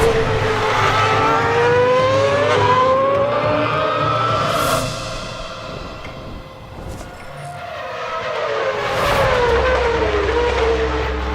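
A Red Bull Racing RB8 Formula 1 car screams around a track, its high revving engine climbing and dropping through gear shifts, fading with distance before roaring close again, loud and with no voices.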